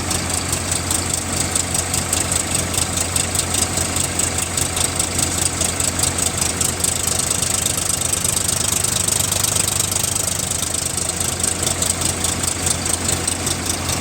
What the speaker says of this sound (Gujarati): આ એન્જિન હમિંગ કરતું હોય ફટફટ ફટફટ કરતું હોય